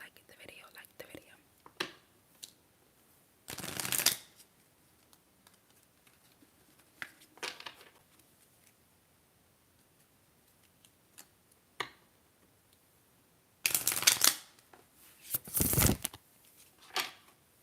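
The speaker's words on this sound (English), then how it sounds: "while I'm shuffling" Tarot cards being shuffled in short, soft bursts close to the microphone, with one cluster near the start and two more near the end, set against quiet whispering in an ASMR setting.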